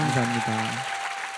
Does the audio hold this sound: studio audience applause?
yes